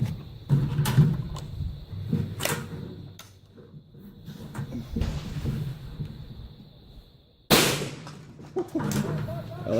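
Shots from a .22 LR rifle at a shooting range with police training nearby, several sharp cracks spaced irregularly, with clattering handling noises and murmured voices between them.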